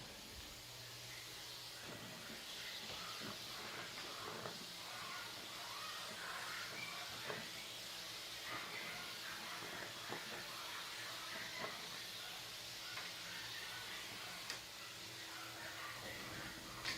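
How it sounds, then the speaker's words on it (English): A vacuum cleaner runs steadily in a dog grooming room, cleaning up after grooming, its continuous loud hiss and whine holding throughout with small clicks and bumps along the way. "Let's vacuum out this mess."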